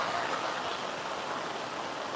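Steady rain falls outdoors in Kerala, a soft, even hiss of drops with no voices, continuous and moderately quiet throughout.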